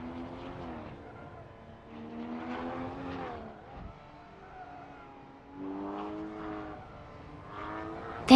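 Race cars in a rallycross racing video game at Blackwood Rallycross drive with a continuous, moderately loud engine drone whose pitch rises and falls as the cars rev and shift, with no talking.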